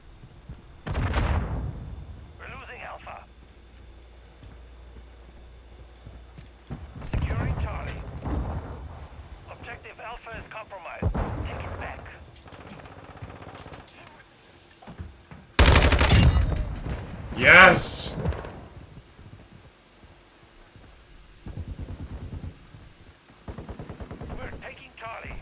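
Gunfire in Call of Duty: Modern Warfare II, heard in scattered bursts across the clip, with two loud sharp volleys in the middle and quieter shots around them, mixed with game sounds and a speaking voice.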